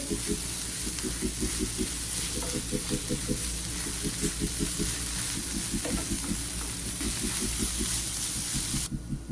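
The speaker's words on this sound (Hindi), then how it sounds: "अब इन सब चीज़ों को अच्छी तरह से मिक्स कर लेंगे" Ground meat for malai keema with coriander powder and salt sizzles in a pan while being stirred, a steady frying hiss with a repeated scraping and tapping rhythm close by.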